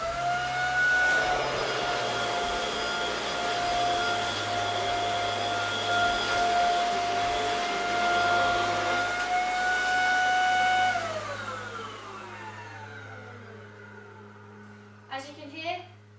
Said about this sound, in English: As you can hear, the vacuum cleaner it's not as noisy as other vacuum cleaners.